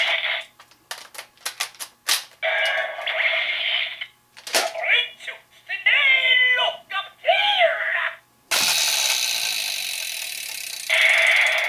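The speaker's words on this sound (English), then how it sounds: "And there's Stimero's individual attack noise." A Gaburevolver toy gun's electronic attack effect plays: chirping synthetic tones, bleeps and a loud burst of noisy blasts, close and harsh.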